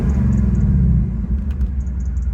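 A Ford Mustang GT 5.0 V8 with 10-speed gearbox idles in racetrack exhaust mode, a deep, loud burbling rumble heard close up, easing slightly partway through, with faint chimes above.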